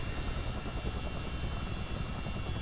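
A CH-47D twin-rotor helicopter taxiing in a flight simulator, its engines giving a steady, dense whine and rumble with an even rotor throb, close and constant, no talk.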